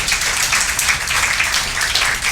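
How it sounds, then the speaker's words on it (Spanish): A church congregation breaks into sustained applause, a dense, steady patter of many hands clapping at an even level for the whole stretch, with no voices standing out. "Denle un aplauso al Señor."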